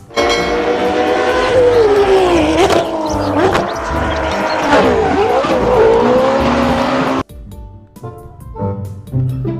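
Toy sedan race car's electronic engine sound, a loud continuous revving whine with rising and falling pitch for about seven seconds, cutting out abruptly before a few fainter tones.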